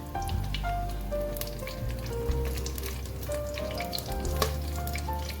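Curry leaves sizzle and crackle in hot oil with green chillies already in the pan, a dense, close frying hiss with sharp pops scattered throughout.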